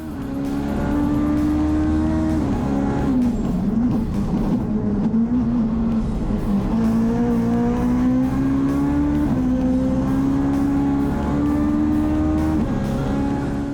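A Ford Fiesta rally car at a stages rally drives hard through all six gears, its loud, close engine drone climbing steadily and dropping sharply at each of several upshifts.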